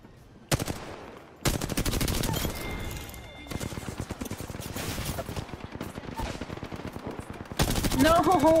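Rapid automatic gunfire in Apex Legends rattles in long dense bursts with short pauses, loud and close, mixed with game effects and a little talk.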